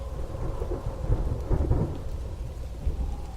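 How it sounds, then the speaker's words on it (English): Thunder rumbles through a storm with steady rain, deep rolling booms swelling and fading under the continuous patter of falling drops, fairly close and heavy. "the strong wind that brought dark clouds, foretelling a storm."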